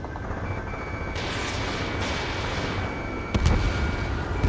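Anti-aircraft gunfire during an air battle over a base in Ace Combat 7 makes a dense, rumbling barrage, with heavy booms pushing through near the end.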